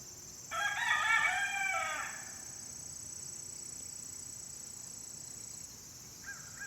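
A rooster crows once, loud and close, with a short harmonic call of about a second and a half, followed by quiet yard ambience with a steady high insect-like whine and a faint cluck near the end.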